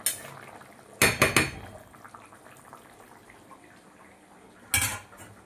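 Metal pots and utensils clatter on a kitchen stove as a finished pot of curry is lifted off, with two bursts of clanking a few seconds apart and quiet kitchen noise between them.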